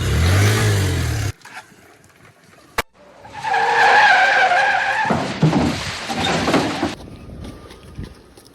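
A car drives and skids, with a loud tire squeal and engine roar followed by a sharp bang, then the car revs and screeches again before fading out.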